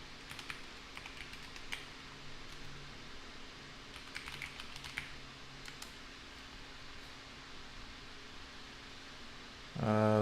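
Steady soft clicking of typing on a computer keyboard, faint and continuous over a low fan-like hum, with a louder burst right at the end.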